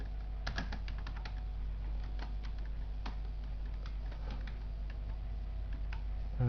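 Typing on a computer keyboard while entering data into an Excel spreadsheet, a quiet, steady patter of key clicks with irregular rhythm over faint background hum.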